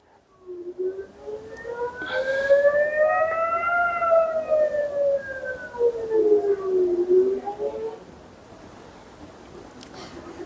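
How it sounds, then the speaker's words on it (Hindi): Air raid sirens wail over Tel Aviv during an attack, a loud rising and falling tone sweeping up and down with clear harmonics for several seconds before fading, with faint distant layers beneath. "मतलब हर तरफ सायरन की आवाज है। तेल अवीव पूरी तरह से सायरन में डूब गया।"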